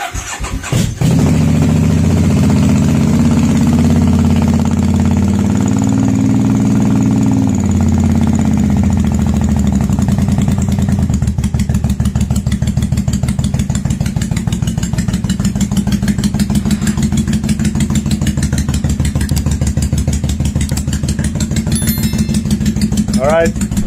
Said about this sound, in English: give her a little uh, petrol on, choke, key on, couple throttles